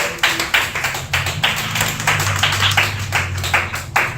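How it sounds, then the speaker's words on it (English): An audience claps at a virtual earners bootcamp after a speaker finishes. The applause is steady and fairly loud, with distinct sharp hand claps layered over a continuous patter for about four seconds. "Please let's clap."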